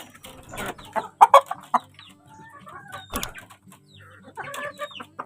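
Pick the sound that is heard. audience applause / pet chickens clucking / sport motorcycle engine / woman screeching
pet chickens clucking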